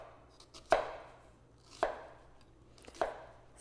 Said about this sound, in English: fold this wobbly end over and continue dicing through